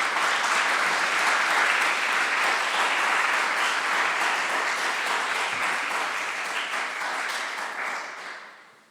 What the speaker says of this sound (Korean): 선교사님 나오실 때 박수로 모시겠습니다.